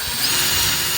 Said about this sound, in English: Let me get a little deeper of a pilot hole.